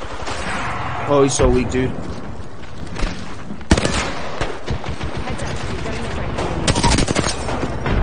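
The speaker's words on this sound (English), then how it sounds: "Opening fire." Rapid automatic gunfire in the Apex Legends video game, loud and sustained in bursts with sharp shots cutting through, while players talk over it.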